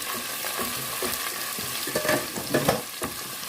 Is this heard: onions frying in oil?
yes